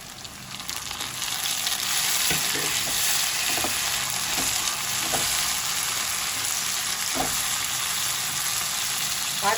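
Chopped tomatoes hit hot oil with onions in a pan while cooking ghugni, giving a loud, steady frying sizzle throughout with a few faint clicks of stirring, and no voices.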